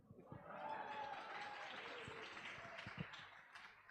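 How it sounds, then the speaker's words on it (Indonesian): Audience applause at a youth Eucharist gathering for a theme song and logo launch, a broad, steady wash of clapping with some louder individual claps, lasting several seconds. "Boleh tepuk tangan."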